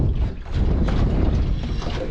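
Wind buffets a small fishing boat out on open water, a steady low rumbling roar of gusts against the microphone with no talking.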